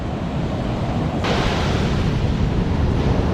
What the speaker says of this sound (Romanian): Mamă, ce valuri.